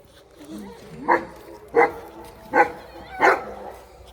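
A dog on a farm barks four times in a steady rhythm, each bark loud and close, with faint voices in the background between barks.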